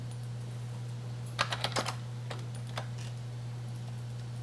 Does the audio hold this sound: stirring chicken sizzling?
no